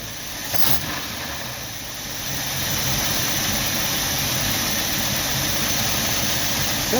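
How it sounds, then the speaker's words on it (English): The engine of a 1990 Jeep Wrangler idles unevenly, a steady low rumble with a brief bump near the start before settling into a continuous, slightly rough drone close by. "Definitely not idling smooth."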